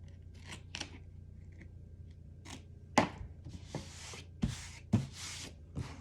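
Scissors cutting paper for a handmade album: a handful of sharp, close snips and crunches spaced irregularly over a quiet background.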